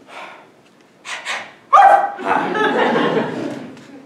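A dog gives a sharp bark in the middle of a stage play, set among people's voices and light laughter in a room.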